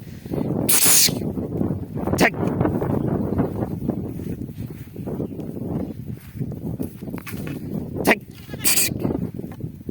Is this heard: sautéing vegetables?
no